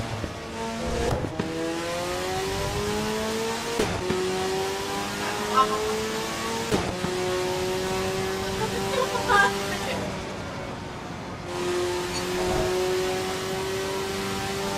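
Race car driven in the Assetto Corsa Evo video game at the Glen: a steady engine drone climbing in pitch through the gears, with a few brief shift breaks and a constant hiss of road and wind noise.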